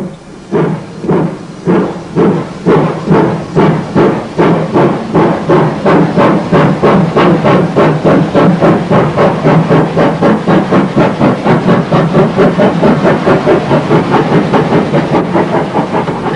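A steam train departs Monmouth station on an evening service to Chepstow. Loud, steady exhaust chuffs beat evenly and quicken slightly as it pulls away, close and alone.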